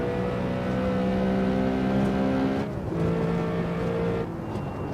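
A BMW M3 E92 drift car in Assetto Corsa at the Magione circuit holds a loud, steady engine drone at high revs, with a brief dip and gear change partway through, and no one talking.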